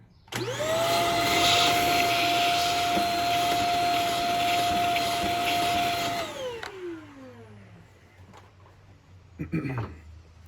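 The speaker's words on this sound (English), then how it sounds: "let me vacuum some of this" A vacuum cleaner cleaning a ROEST coffee roaster whirs loudly with a steady high whine for several seconds, then powers down, its pitch sliding away, followed by faint clunks.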